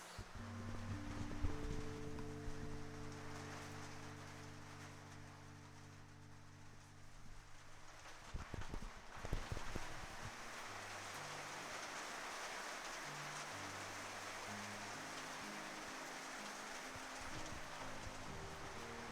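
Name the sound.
rain falling on a shed roof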